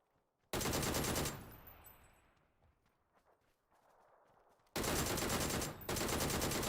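PUBG gunfire in a console esports match, with loud dense bursts of rapid automatic fire, a quieter stretch of scattered shots and movement, then more heavy sustained volleys, close and harsh.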